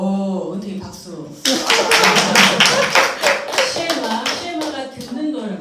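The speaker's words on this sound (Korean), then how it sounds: "박수" A small group clapping in a church worship lecture, a burst of lively applause kicking in after a brief voice and continuing unevenly for several seconds at close range.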